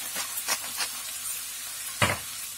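Soybeans stir-fried with soy sauce in a pan, stirred with a few soft scraping strokes over a low sizzle, ending in one sharper scrape, close and fairly quiet, with no talk.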